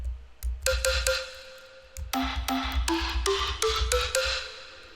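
A Nexus synth preset from the Christmas 2015 library plays a series of bright plucked notes stepping upward in pitch over a soft low pulse, the notes clear and close.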